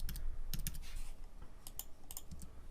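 Close, fast keystrokes clatter on a computer keyboard as JavaScript code is typed, uneven bursts of clicks with brief gaps and no voices.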